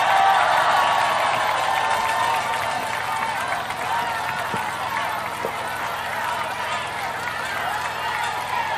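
A crowd at an outdoor election campaign rally for a district mayoral race claps and cheers in a dense, steady wash of applause that is loud at first and eases slightly.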